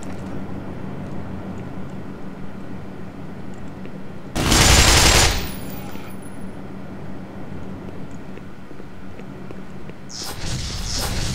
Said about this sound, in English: Oh god, that guy's on a machine gun.